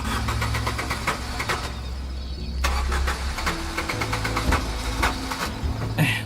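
A car engine on a rural farm cranks over and over without catching, a loud, continuous rhythmic starter churn with a few uneven surges, and no voices.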